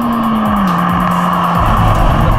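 A Honda Civic Type R pulls along a canyon road with a loud, steady engine drone from inside the cabin. Pitch sweeps drop and climb through shifts, over constant tire and road roar.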